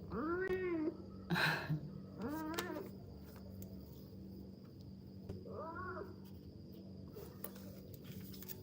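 A cat meows several times, drawn-out, rising and falling calls spaced apart with quieter pauses between, close by with no talking.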